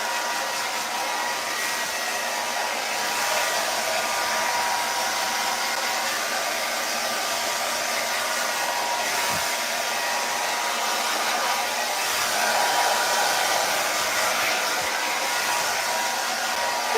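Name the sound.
hair dryer blowing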